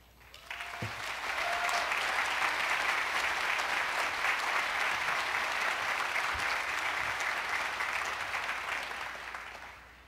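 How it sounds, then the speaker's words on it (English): Graduation ceremony audience at the Harvey Mudd College 2011 commencement breaking into sustained applause, a dense, even roar of clapping that swells in and holds steady for about ten seconds before easing off. "And now please join me with a round of applause"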